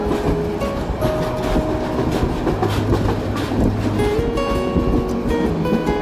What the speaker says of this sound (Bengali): আমাদের ট্রেনটি কিন্তু ট্যাক কাঁপানো গতিতে সামনের দিকে এগিয়ে যাচ্ছে।